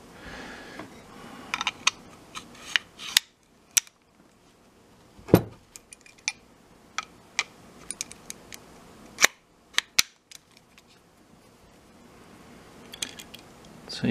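Metal clicks and snaps from a Pietta 1851 Navy Colt cap-and-ball revolver being reassembled by hand, a scattered run of sharp close taps and clacks with quiet pauses between them.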